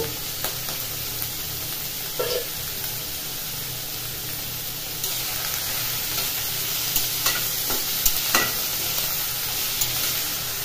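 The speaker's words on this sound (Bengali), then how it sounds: "তেলটা গরম হয়ে গেছে, এখন পেঁয়াজ কুচি দিয়ে দেব তেলের মধ্যে।" Chopped onions frying in hot oil while being stirred, a steady soft sizzle with a few scraping stirs, with no talk over it.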